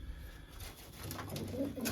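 Soft, low cooing of Kızıl pigeons, including an old bird, rises toward the end, close by, over a background of faint rustling and ambient noise, in Ankara.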